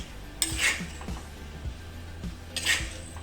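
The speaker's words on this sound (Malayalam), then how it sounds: "ഇനി നമുക്കിതൊന്ന് ചട്ടിയിൽ നിന്ന് കോരി മാറ്റാം." A metal spoon scrapes and clinks against a pan while beef and potato curry is scooped out. There are several separate scoops, close and moderately loud, each with a rattling clatter.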